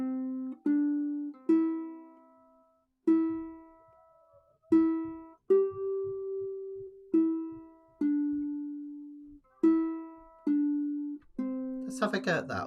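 A ukulele picked clawhammer style plays a short closing phrase of Wildwood Flower as a dozen clear, ringing single notes at a relaxed, uneven pace, ending in a strummed chord.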